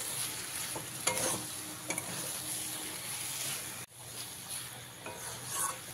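Kochur loti (taro stolons) being stirred together with fried prawns in a pan: a soft sizzle under repeated spatula scrapes and clinks, close and fairly quiet, with a brief pause near the middle and no voices.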